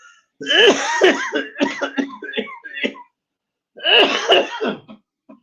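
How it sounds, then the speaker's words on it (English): Several harsh, voiced coughs and throat-clearing sounds come in a rough burst, a pause, then another cough, close to the microphone. "Don't mean to cough into your ear"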